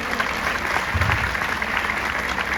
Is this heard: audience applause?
yes